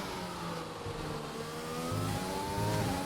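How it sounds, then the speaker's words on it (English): A race car in a sim racing game drops two gears in quick succession, its engine note stepping up in pitch with a steady mid-range drone throughout, no voices. "He did a double downshift."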